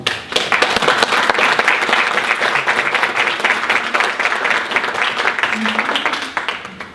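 Dense, loud applause from a conference audience welcoming a human rights speaker onto the stage, sustained for several seconds before tapering off at the end.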